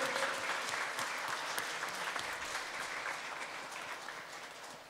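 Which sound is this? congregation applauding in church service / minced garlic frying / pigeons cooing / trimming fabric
congregation applauding in church service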